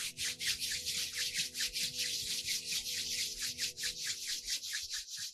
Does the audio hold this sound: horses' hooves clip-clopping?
no